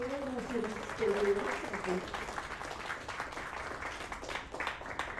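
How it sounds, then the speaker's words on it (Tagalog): Members of a Christian church gathering in Brazil applaud in thanks, a fairly quiet wash of clapping running the whole time, with a brief tone and some voices mixed in early on. "Pasalamatan natin sila at palakpakan."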